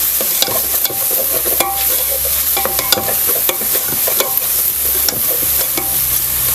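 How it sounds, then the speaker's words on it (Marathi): Masala spices stirred and fried in hot oil for a spicy mutton curry, a steady close sizzle broken by scraping spoon strokes and clinks against the pan throughout. "मसाला भाजून घ्यायचा आपल्याला तेलामध्ये परतून घेऊया"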